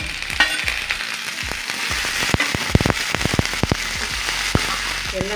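Chopped vegetables fry in a pan for a village-style Tamil thumbai keerai rice dish, giving a steady close sizzle with frequent sharp crackles and pops throughout and no talking.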